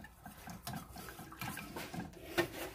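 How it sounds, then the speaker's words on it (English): Light cream poured into a pot for crab mac and cheese, a soft liquid splashing and trickling for a few seconds, fairly quiet with faint kitchen clatter and no talk. "Okay, add the light cream."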